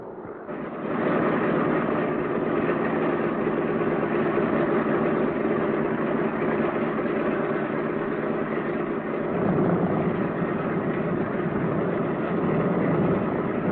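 B-17 bomber engines idling, a steady, loud, droning rumble that holds evenly for over twelve seconds with a slight shift in tone partway through.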